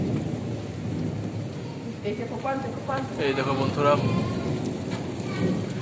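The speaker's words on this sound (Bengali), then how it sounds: "মেঘ, বৃষ্টি এবং বাজ পড়ছে" Thunderstorm at dusk during a power cut, with steady heavy rain hissing throughout and low thunder rumbling beneath; a person talks over the storm noise.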